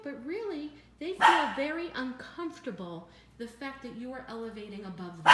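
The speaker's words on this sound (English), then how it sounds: "these dogs will not stop barking" A dog barks in short bursts indoors, partly masked by someone talking continuously over it.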